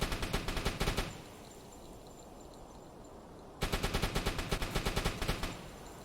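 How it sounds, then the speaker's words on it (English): Rapid bursts of automatic gunfire fired at cargo boxes in the submarine game UBOAT come in two close, loud volleys of evenly spaced shots, separated by a few seconds of low background rumble. "Shoot the cargo boxes."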